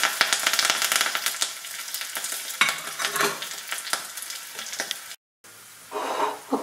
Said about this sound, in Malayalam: ഈ കറിവേപ്പില കൂടി അങ്ങ് ഇട്ട് കൊടുക്കുക.